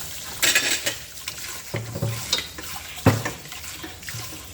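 Large kitchen utensils such as a strainer ladle and big serving forks and spoons being washed under running water, with splashing, metallic clinks and knocks against the sink in an irregular rhythm, close and fairly loud.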